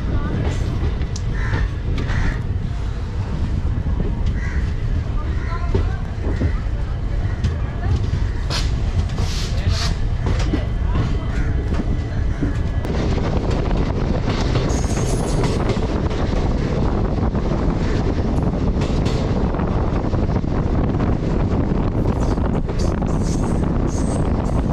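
A train pulls into Marwar Junction in Rajasthan on the Ajmer to Jaisalmer route, a loud, steady rumble mixed with wind buffeting the microphone that runs without a break for the whole stretch.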